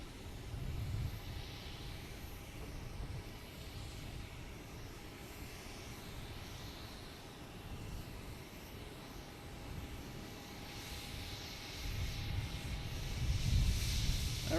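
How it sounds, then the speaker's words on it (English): A JetBlue airliner approaches Boston Logan Airport, its engines rumbling faint and distant under a steady hiss, the roar swelling slightly toward the end. "we have the JetBlue 2896 coming in"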